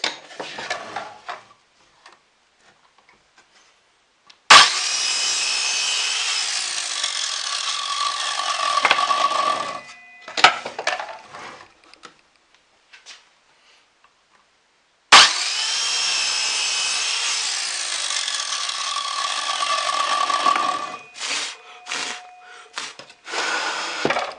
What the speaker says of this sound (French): mes trois planches coupées à 30 cm chacune